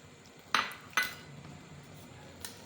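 A spoon mixing aloo chana raita in a bowl gives two bright clinks against the dish in quick succession, then a fainter tap, heard up close in a quiet kitchen.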